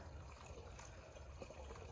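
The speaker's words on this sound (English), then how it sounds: "hubby's just pouring it into the funnel, which also has like a mesh strainer on it as well" Diluted liquid fertilizer, mixed with water in a bucket, is poured through a mesh-strainer funnel into a new backpack garden sprayer, making a steady, soft trickling and filling sound close by with no talk.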